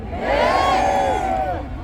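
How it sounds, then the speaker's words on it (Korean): A crowd at a South Korean political rally for President Yoon Suk Yeol's return lets out a loud, sustained collective shout that swells quickly and holds for well over a second before easing slightly. "함성 발사할 준비되셨습니까?"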